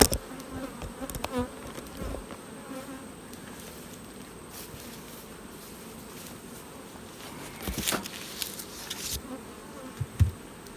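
Faint, steady buzzing rises from an opened beehive during the fall honey flow, with a few soft handling knocks and thumps now and then.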